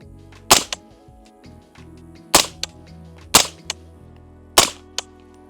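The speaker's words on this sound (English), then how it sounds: "I can tell that it is suppressed very good. It's shooting really nice." Four sharp shots from a suppressed 300 Blackout rifle at an outdoor range, spaced a second or so apart, each a loud crack followed by a short echo, with no talking between them.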